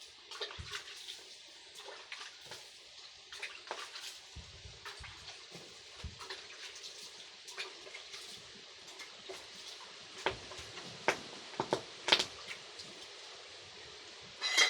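Chunks of quicklime hiss and fizz as water is poured on, a steady seething wash broken by scattered sharp crackling pops that grow louder toward the end, close by.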